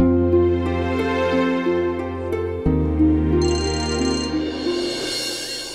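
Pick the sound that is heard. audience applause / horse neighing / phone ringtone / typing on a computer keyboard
phone ringtone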